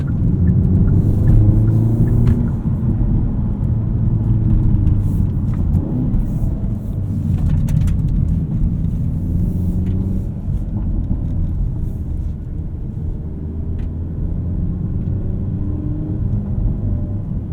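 2024 Hyundai Elantra N with a six-speed manual driving over a rough section of road, a steady low engine drone and tyre rumble heard from inside the cabin throughout, with no talking.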